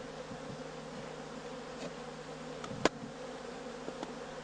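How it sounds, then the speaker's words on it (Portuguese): Steady insect buzzing from many honeybees at a hive, a dense continuous drone with no voices, one brief click partway through. "as abelhas voltam a trabalhar para fechar o buraco"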